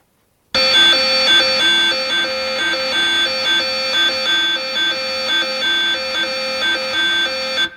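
A Utopia synth plays a steady, bright tonal pattern with a repeating low-mid pulse and sustained high harmonics, loud and continuous without any talk.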